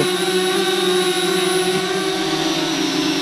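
A small DJI Spark quadcopter drone hovers close by with a steady, high-pitched buzzing whine of spinning propellers, holding an even pitch throughout.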